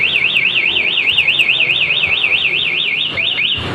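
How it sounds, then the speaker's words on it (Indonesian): A Yamaha NMAX scooter's aftermarket alarm wails continuously, a loud, near, warbling siren rising and falling in fast regular cycles, then breaking into a couple of quick chirps near the end, with no talk. "Maka mesin mati dan alarm berbunyi."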